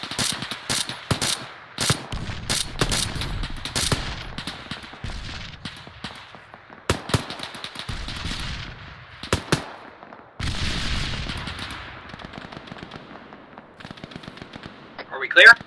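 Automatic weapons fire in the military shooter ARMA 3, with rapid bursts and single cracks repeating irregularly throughout, some close and sharp, others duller and farther off, while voices talk over the shooting.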